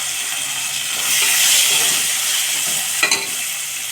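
Green chillies fry in hot oil with curry leaves and turmeric, giving a loud, steady, close sizzle and hiss that swells slightly midway, with a brief crackling burst near the end and no voices.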